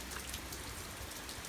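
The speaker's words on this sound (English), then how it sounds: "the rain isn't bad, thankfully" Steady rain falls during Hurricane Matthew, an even broadband hiss of drops on surfaces, continuous and fairly close with no voices.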